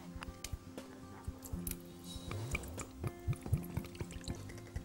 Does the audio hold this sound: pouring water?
yes